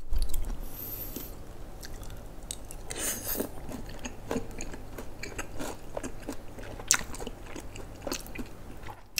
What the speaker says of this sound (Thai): ต่อไปมาชิมหมูกรอบ